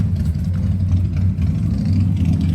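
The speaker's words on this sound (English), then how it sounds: "Uh-oh, a motorcycle pop up." Motorcycle engine rumbling nearby, a steady low droning growl for a few seconds with no talking.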